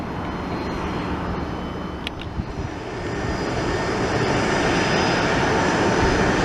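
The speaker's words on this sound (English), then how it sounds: "Another Boeing," A Boeing airliner's jet engines roar in a broad, steady rumble that swells slightly louder as the aircraft nears an airport with busy arrivals.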